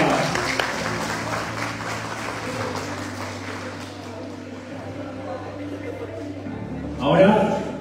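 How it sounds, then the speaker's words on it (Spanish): Students and guests at a 2024 university academic-year opening ceremony in Chilca clap loudly in a dense burst that gradually thins out, followed by a voice speaking near the end. "¡Muy bien, fuerte las palmas!"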